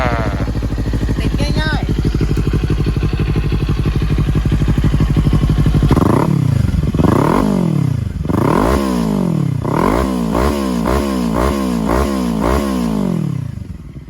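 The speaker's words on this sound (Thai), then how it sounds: "อ่ะไหนขอฟังเสียงเครื่องยนต์หน่อย" A Kawasaki Ninja 400 motorcycle engine starts, idles steadily, then is revved repeatedly in sharp, loud bursts up close.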